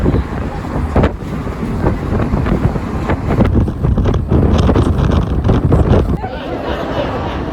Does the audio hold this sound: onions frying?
no